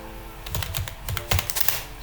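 Java code being typed on a computer keyboard, a quick run of close, distinct key clicks in uneven bursts, with no talking.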